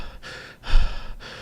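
A man imitates heavy panting: three loud, breathy gasps in quick succession, close and alone, with the middle breath the strongest.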